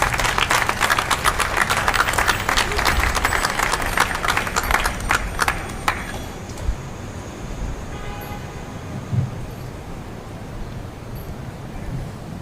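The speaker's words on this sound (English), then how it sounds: "Give him a round of applause." A crowd at a Philadelphia mayoral press event on bike safety applauds the managing director. Dense, loud clapping lasts about six seconds, then fades to quiet room tone.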